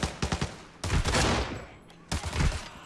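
Bursts of rapid gunfire from a firefight in the video game Arena Breakout, loud and close, with several separate volleys and short pauses between them.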